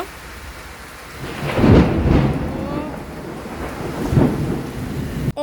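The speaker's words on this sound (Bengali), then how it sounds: "অনেক সুন্দর বৃষ্টি হয়েছে" Rain falls steadily while two deep rumbles of thunder roll through, one early and a softer one later.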